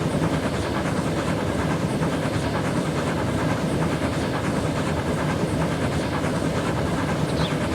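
Train crossing a railway viaduct in the Transport Fever 2 video game, a dense, steady rumble of wheels and rolling stock with faint clickety-clack and hiss, continuous and loud without any talk.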